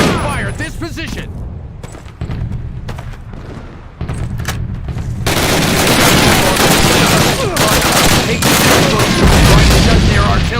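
Gunfire in a Call of Duty battle scene: scattered shots and thumps at first, swelling into a loud, dense fusillade of rapid fire and booms, with shouted voices in the mix.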